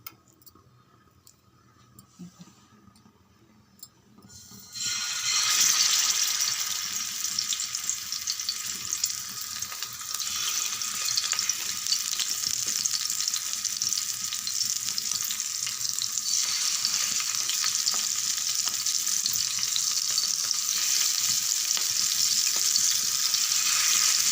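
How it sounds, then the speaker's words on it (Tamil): After a few seconds of quiet, a loud, steady sizzle of fish pieces frying in hot oil in a home kitchen starts and continues without pause. "மீன் பொரிக்க எண்ணெய் விட்டுருக்கேன்"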